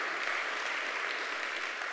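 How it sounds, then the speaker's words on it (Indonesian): Congregation applauding during a church service at GBI Rock Pluit, a steady, dense wash of clapping that holds evenly for the whole stretch at a moderate, slightly distant level. "Tepuk tangan buat Allah kita."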